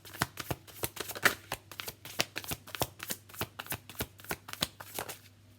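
Tarot cards being shuffled by hand, a steady run of crisp riffling snaps and soft flutters repeating about twice per second, close and clear with no talking.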